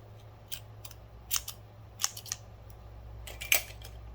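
Several short, crisp scissor snips cut through purple yarn during a tapestry crochet colour change, spaced irregularly with a steady low hum underneath and no talking.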